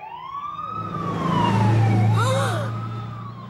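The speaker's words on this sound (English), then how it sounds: "Oh, I'll turn on the siren." A cartoon toy fire truck's siren wails with rising and falling tones at moderate volume over a low engine-like hum, short and alone without speech.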